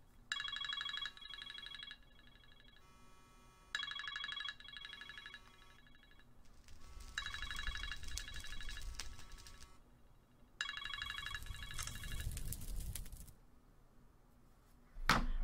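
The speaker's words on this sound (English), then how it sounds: "my ringtone started going off for no reason whatsoever" A phone ringtone sounds in repeated bursts of bright electronic tones separated by short pauses, moderately loud, with some rustling and faint noise between the rings.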